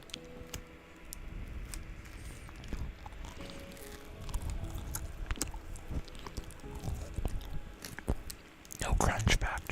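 A peppermint treat is bitten and chewed close to the microphone, giving soft irregular crunching and mouth sounds with faint breathy noise, and a sharper cluster of bites near the end.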